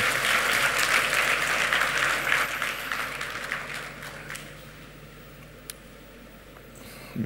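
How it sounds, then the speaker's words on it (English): A conference audience applauds volunteers with dense, sustained clapping that fades gradually toward silence near the end. "can we get a round of applause for all the volunteers?"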